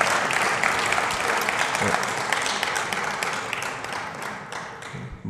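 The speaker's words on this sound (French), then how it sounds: "Et il mérite nos applaudissements." Audience applause at an awards ceremony for overseas talents, dense steady clapping from a crowd that carries on for several seconds and tapers slightly toward the end, with no one speaking.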